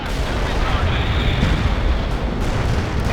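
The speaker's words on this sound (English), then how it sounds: "Our barrage defeated the enemy." An artillery barrage in the video game World in Conflict rolls on as a dense, continuous roar of blasts and rumbling booms, loud and unbroken, with voices mixed in.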